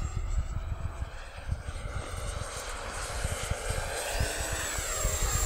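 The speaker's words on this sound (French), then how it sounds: "Attention, drone kamikaze" A kamikaze drone in a video game flies with a continuous buzzing engine whine over rumbling game noise and low thuds, steady and fairly loud throughout.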